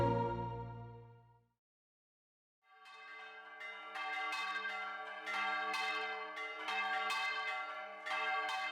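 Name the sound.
centuries-old church bells ringing in São João del-Rei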